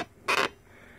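The back of a Vertagear PL6000 V2 gaming chair gives one short, sharp creaking squeak when moved, close by, with quiet room noise after it.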